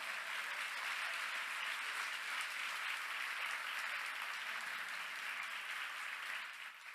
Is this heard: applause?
yes